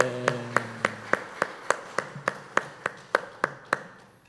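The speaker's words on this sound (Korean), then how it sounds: "우리 하나님께 영광의 박수 올립니다." A church congregation claps together in steady unison, about fifteen sharp, evenly spaced claps in quick succession that fade slightly toward the end, with no talking over them.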